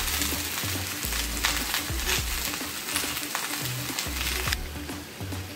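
Zucchini fries with onion in a pan, giving a continuous loud sizzle with repeated clatters and scrapes as the vegetables are stirred. No one speaks.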